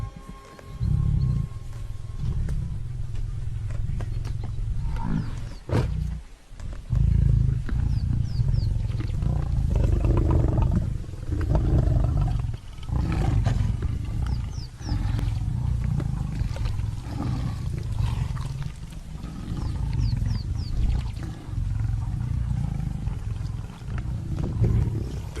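Lions in the African wild roar and growl during a struggle with buffalo: deep, loud, repeated roars and snarls over a rough, continuous din lasting throughout.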